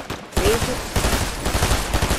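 Rapid gunfire in the video game Fortnite, a dense burst of repeated shots with a rough, crackling texture, loud and continuous across the short stretch.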